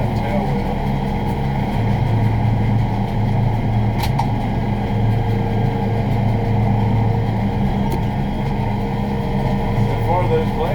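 A tractor-drawn bush hog mower fitted with EA Wicked blades cuts vegetation with a constant, close droning hum from the engine and spinning rotor. A few sharp knocks break the drone now and then.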